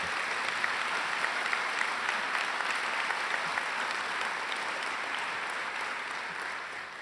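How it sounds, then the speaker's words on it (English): Sustained audience applause during a university president's annual welcome address, a steady dense wash of clapping from a large crowd, even in loudness throughout and tapering slightly at the very end. "How about a round of applause?"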